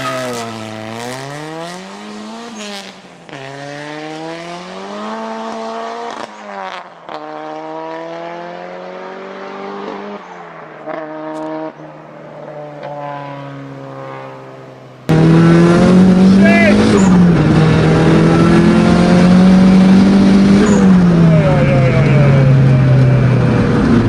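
A 400 horsepower Honda Civic revs hard on the road, engine pitch sweeping up and down through repeated gear pulls, close and loud, growing much louder in the second half, with voices talking over it.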